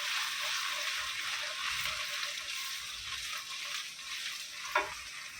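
Chopped ginger, garlic and curry leaves sizzle steadily in hot oil in a pan, a continuous close frying hiss with a brief stir or clatter near the end.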